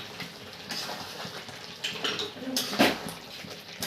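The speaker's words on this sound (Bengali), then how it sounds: "এখন আমি আলু দিয়ে দিব।" Large chunks of potato drop into a pot of Bengali mutton curry with soft thuds, clatter and moist sizzling, close by, ending in a louder knock against the pot.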